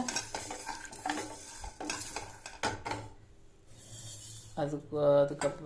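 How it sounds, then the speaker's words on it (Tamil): Ingredients frying in a pan for South Indian mor kuzhambu (buttermilk curry), with a soft sizzle under clinking stirring and scraping of a utensil against the pan, close by, plus a brief voice-like tone near the end. "இது ஒரு பக்கம் வறுத்துட்டு இருக்குங்க"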